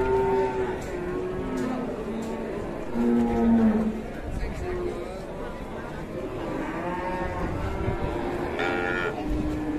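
Several cattle low and moo repeatedly at a busy cattle market where an aggressive cow is for sale, long calls rising over a steady crowd murmur and background chatter.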